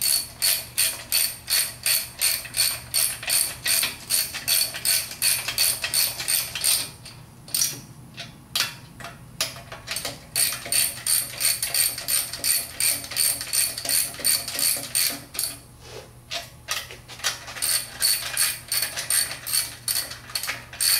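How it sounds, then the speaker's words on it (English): Ratchet wrench clicking in rapid bursts while bolts are run in during assembly of a VW 1600 long block engine, close and loud, with brief pauses between runs of clicks. "Some of these started, then we'll go to the torque wrench."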